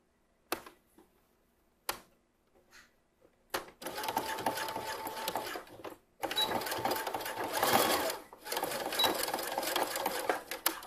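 Sewing machine running a basting stitch along a swim top. A few isolated clicks come first, then two sustained bursts of steady, fast stitching rattle, close and fairly quiet, separated by a short pause.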